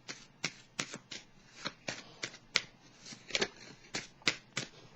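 Tarot cards being shuffled by hand, a quick run of crisp riffling bursts in an irregular rhythm, close and moderately quiet with no talking.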